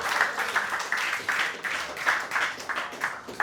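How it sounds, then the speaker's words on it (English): A comedy club audience in Key West claps and cheers in rolling bursts, a moderately loud wash of applause rising and falling for a few seconds. "how about a round of applause for all these fucking knuckleheads?"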